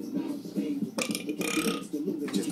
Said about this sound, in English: Just a burp.